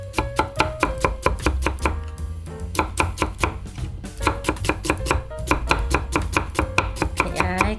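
A knife finely julienning vegetables on a cutting board, with rapid, steady, crisp chops in quick bursts separated by brief pauses, close and distinct.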